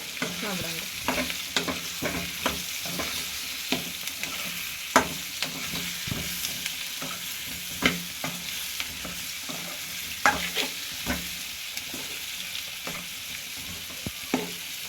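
Pieces sizzle in hot oil while a spoon stirs and scrapes the pan, making a steady crackling hiss with repeated sharp clicks and knocks at an irregular rhythm, close and fairly loud, with no talking.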